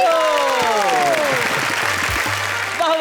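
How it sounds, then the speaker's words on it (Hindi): An audience at a Hindi poetry recital bursts into loud, continuous applause, a dense wash of clapping that carries steadily to the end, with a voice briefly rising near the close. "तालियां हो तो ऐसी हो"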